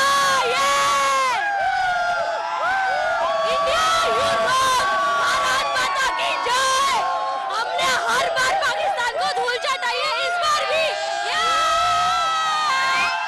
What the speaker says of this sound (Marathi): हे तरुण जे आहेत ते मोठ्या प्रमाणात जल्लोष करत असल्याचं पाहायला मिळतंय